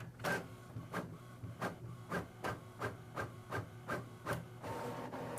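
An Epson WorkForce inkjet printer runs a test document, its print head sweeping in a regular series of about ten short mechanical passes, close and loud, ending in a steadier feed whir with no talk.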